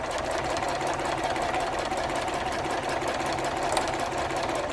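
A sewing machine stitches across the bottom of a handbag liner divider, running as a steady, dense mechanical whir that continues without a break.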